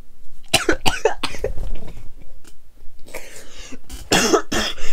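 A series of harsh, bursting coughs from a sick person, several in quick succession, then another cluster of rougher coughs after a short pause, close and loud.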